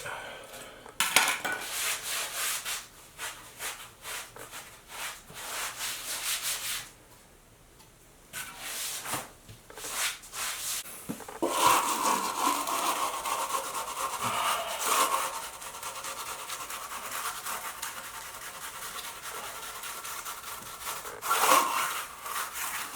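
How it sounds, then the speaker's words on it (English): A damp sponge scrubs and wipes thinset mortar off freshly set shower tile, a steady wet rubbing and scraping that rises and falls in strokes with a few short pauses, close by and without talk. "it's a good idea to sponge everything off so you can see where you're at"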